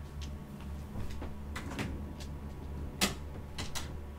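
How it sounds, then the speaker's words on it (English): A door thuds shut in Resident Evil on the Wii, one firm knock-like closing sound standing out among lighter clicks and ticks over a low, steady game background hum. "Can you close the door?"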